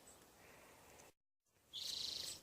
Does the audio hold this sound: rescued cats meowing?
no